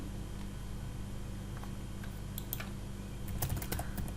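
Someone types on a computer keyboard, with light scattered clicks and a short burst of quicker keystrokes near the end over a steady low background hum; nobody speaks.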